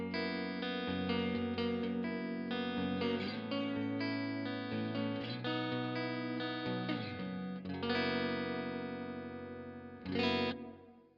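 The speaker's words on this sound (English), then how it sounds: "It's an interesting sounding single coil, and I really like the sound of that reverb as well." Custom Valiant electric guitar on its neck single-coil pickup, run through a reverb effect: bright, chimey chords and notes ring out steadily with a lush wet tail, ending on a final strummed swell, with no talking.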